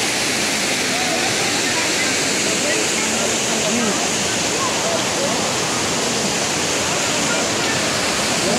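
Steady, loud rush of flowing water at a green-watered spot on a trip to Keonjhar, a constant broadband roar like a small waterfall or stream heard up close without pause.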